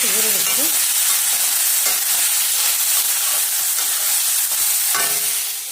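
Ivy gourd (tondli) and chana curry hiss and bubble in a pan on the stove in a steady, close sizzle, with a few soft stirring scrapes and no talk.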